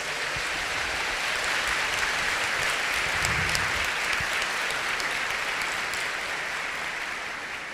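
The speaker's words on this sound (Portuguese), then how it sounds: "Pode aplaudir a palavra." Sustained applause from an audience at a church camp talk, dense and steady clapping from many hands throughout, with no voices over it.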